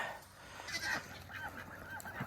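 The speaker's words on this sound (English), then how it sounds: "All of our ducks and the 3 guineas that think they're ducks." Honking, squawking calls from a busy flock of ducks and three guinea fowl overlap in a chorus, several birds calling at once at moderate distance with steady background noise.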